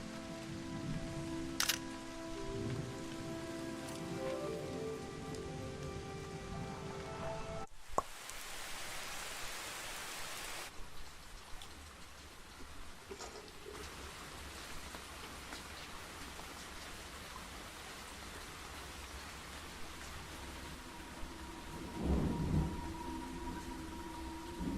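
Rain falls steadily on surfaces in Southern California, a continuous hiss of drops with a brief heavier downpour near the start, moderately quiet and without voices.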